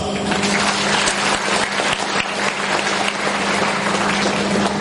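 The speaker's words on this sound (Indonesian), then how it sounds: "Mari kita berikan aplaus" An audience at an academic event in a hall claps in sustained, dense applause, loud and continuous from start to finish.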